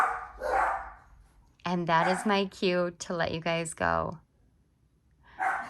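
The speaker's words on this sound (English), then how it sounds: "I apologize for the dogs. They get kind of worked up when someone's outside." Dogs indoors, worked up by someone outside, let out a close, loud volley of about half a dozen quick barks in a row, with someone speaking briefly before and after.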